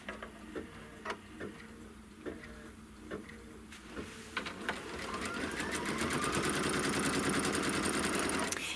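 A sewing machine stitching a quilt block seam on a Kimberbell mistletoe mystery block, starting with scattered ticks and clicks, then settling into a steady, loud mechanical whir of rapid stitching that runs to the end.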